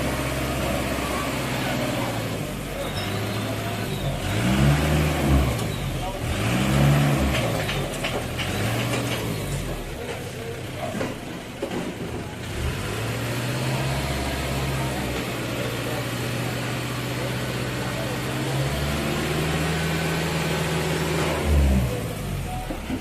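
A car engine idles and revs in a few rising bursts, fairly close and steady throughout, with people talking faintly in the background.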